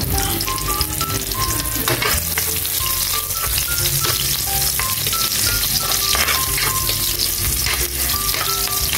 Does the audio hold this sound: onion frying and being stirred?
yes